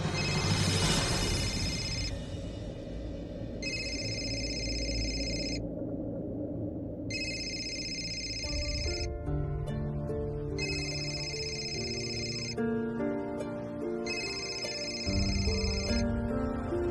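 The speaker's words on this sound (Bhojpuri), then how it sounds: "फोन बज रहा" A telephone in a Bhojpuri-language TV serial scene rings in repeated bright bursts separated by short pauses, layered over steady background music.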